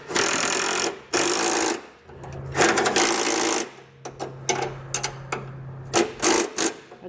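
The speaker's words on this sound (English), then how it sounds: "So I'll use a 13 millimeter wrench and socket," A 13 mm wrench and socket snugging running board bracket bolts on a 2018 truck: bursts of rapid ratcheting clicks alternate with brief metallic taps and pauses, close and fairly loud.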